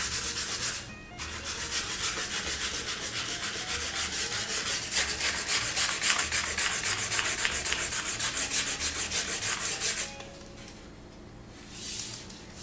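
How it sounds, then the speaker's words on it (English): Light, steady rubbing on a homemade wooden sign to take painted letters off, a continuous dry scraping that runs close and loud for about nine seconds and then stops. "Just kind of lightly rub it a little bit."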